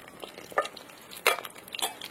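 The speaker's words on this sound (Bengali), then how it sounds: "এই যে এরকম থাক, এবার ওই পাশটা ভাজাও" Chicken kofta wrapped in pumpkin leaves frying gently in a pan, a soft low sizzle broken by a few sharp clinks and stirring scrapes of a utensil against the pan.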